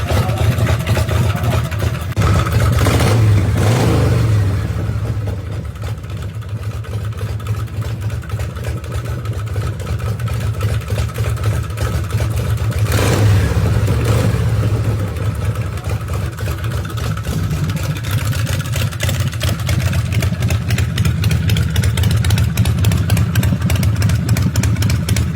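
A 2002 Harley-Davidson Softail motorcycle engine runs loud and close with a deep, steady rumble, swelling into revs near the start and again midway before settling back to a sustained throb.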